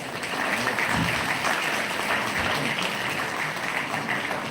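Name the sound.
audience applause for the speaker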